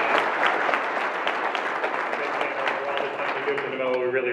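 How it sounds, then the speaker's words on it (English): Audience at a talk applauding a volunteer president, a dense, sustained burst of clapping heard close for several seconds before it starts to thin out, with a voice emerging near the end. "can we give a round of applause to Dana?"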